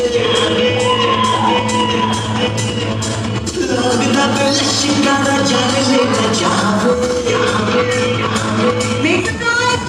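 Loud crowd at a wedding sangeet stage cheering, whooping and shouting to welcome the couple, over steady music, with voices yelling throughout the whole stretch.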